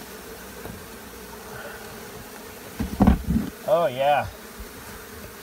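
A dense swarm of bees buzzes steadily close by at a hive in an attic, swelling louder toward the end as someone speaks briefly over the hum.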